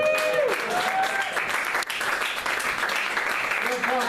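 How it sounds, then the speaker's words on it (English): Audience at a Halloween seance stage show clapping throughout, a sustained round of applause with a host's voice talking over it and faint whistle-like tones. "This is when you're supposed to clap."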